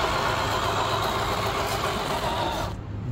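FMS FCX10 RC crawler turning on the spot in dig mode, its electric drivetrain giving a steady whirring, engine-like hum that runs continuously and fairly loud, then cuts off abruptly near the end, with no talking.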